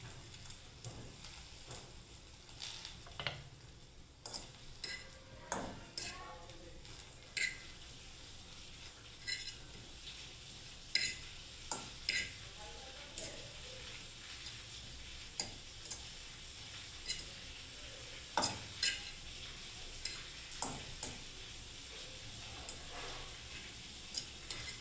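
Bread slices frying in ghee for a bread custard pudding, a soft steady sizzle under scattered sharp clicks and scrapes of a spatula against the pan, fairly faint and close.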